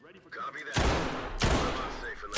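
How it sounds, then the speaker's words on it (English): Gunfire in the tactical shooter Ready or Not as a weapon is fired into a wall: two dense, loud bursts of shots, the second following shortly after the first, with faint voices underneath. "Shooting the wall"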